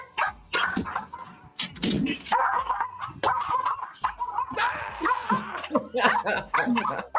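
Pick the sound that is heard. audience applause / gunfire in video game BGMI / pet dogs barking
pet dogs barking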